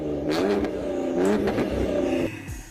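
A Ford Explorer engine revs hard to about 4,500 RPM and stays pinned, its tone wobbling and stuttering as it bounces off the rev limiter, loud and close, then drops away near the end.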